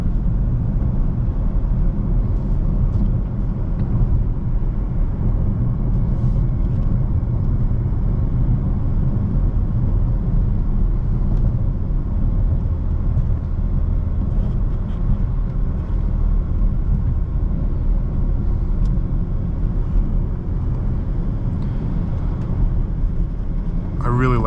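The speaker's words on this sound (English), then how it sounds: "Driving this X5." A 2018 BMW X5M SUV cruises on a road, its engine and tyre rumble a steady low drone from inside the cabin, with a person talking over it.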